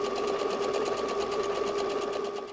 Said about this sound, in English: So we're going to take this over to the sewing machine.